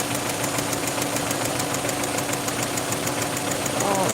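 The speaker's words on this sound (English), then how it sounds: "The valve noise. Ooh, it's back." An idling Peugeot 307 2.0i engine with a fast, even ticking from the valves, loud and close, continuing steadily throughout.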